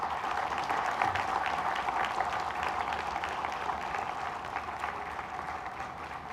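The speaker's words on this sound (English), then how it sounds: "Let's show our encouragement by giving them a huge round of applause." Audience applause at a school valedictory ceremony, a steady wash of many hands clapping from a moderately distant crowd, sustained evenly for several seconds with no talk over it.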